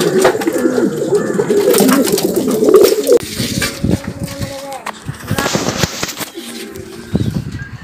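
Roller tumbler pigeons kept for tournament flying, their soft cooing and wing flutters heard close up over a busy outdoor background, with bursts of firecracker-like pops and people talking throughout.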